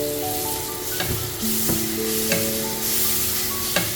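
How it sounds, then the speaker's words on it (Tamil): Ginger garlic paste sizzles with onions in a pan for traditional ghee rice, a steady frying hiss broken by several sharp scrapes and knocks of a spoon stirring at irregular intervals. "இந்த டைமில் 50 கிராம் இஞ்சி பூண்டு பேஸ்ட் அதையும் போட்டு நல்லா கிண்டி விட்டுக்கலாம்."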